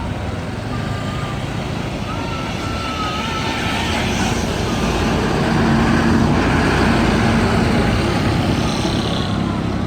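An intercity bus pulling into a terminal in Indonesia, its deep diesel engine rumble swelling steadily louder as it approaches amid background traffic noise.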